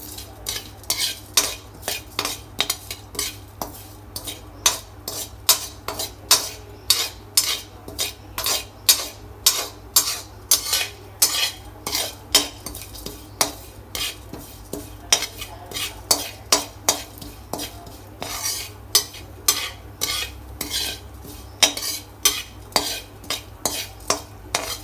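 Pumpkin seeds and cardamom dry roasting in a pan, stirred with a utensil that scrapes and clinks in a steady repeated rhythm, close and crisp, with no talking.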